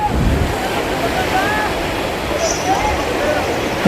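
The fast, strong current of the Ganges at Har Ki Pauri, Haridwar, rushes in a constant loud roar of churning water, with wind buffeting the microphone and a faint voice in the background.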